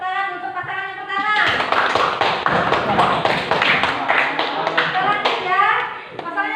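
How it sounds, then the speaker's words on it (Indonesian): A classroom group claps for the first pair of presenters, a burst of quick close hand claps from children rising after a voice and continuing for several seconds. "Kasih tepuk tangan untuk pasangan yang pertama."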